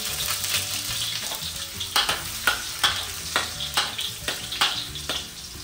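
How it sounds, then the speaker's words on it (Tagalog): Garlic sautéing in hot cooking oil for chicken sopas, a steady close sizzle broken by repeated sharp scraping strokes of a spatula, with no talking. "At syempre, magigisa na tayo. Unahan natin yung bawang."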